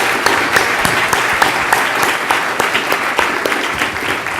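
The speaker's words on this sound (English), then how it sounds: "can we give everyone a round of applause?" An audience at a NewSpace 2017 conference panel on low Earth orbit claps in sustained, dense applause, loud and continuous throughout with no talking.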